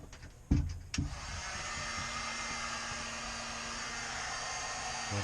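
A heat gun warms plastic tubing with a steady, close broadband blowing hiss that runs the whole time, starting with a couple of sharp handling knocks.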